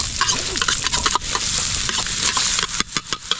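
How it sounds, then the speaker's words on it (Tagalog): Seafood being sautéed in a pan: loud, close, steady frying sizzle with scraping stirring strokes and occasional clinks, and no talk. "Gisa na tayo"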